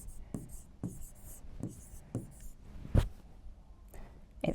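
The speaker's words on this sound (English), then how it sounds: "So I'm going to write the word burger." Marker strokes on a CommBox interactive whiteboard as a word is written, several quiet scratchy swipes in an irregular rhythm with brief pauses, plus a slightly louder tap near the middle.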